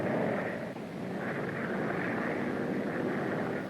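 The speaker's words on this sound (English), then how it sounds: "Yes, I can see him coming now, Mr. McAllen's aeroplane" A propeller aeroplane drones steadily and loudly through a sci-fi film scene, a continuous engine roar with a wind-like hiss that holds at an even level throughout, with no talk.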